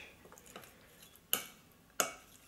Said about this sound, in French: on va simplement le mélanger